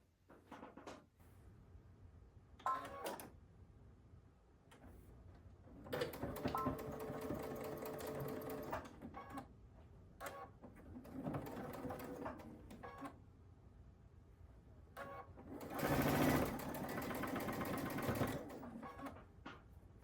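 A home sewing machine chain-pieces pinwheel quilt blocks in bursts of rapid stitching, near and moderately loud, separated by pauses, small clicks and handling sounds.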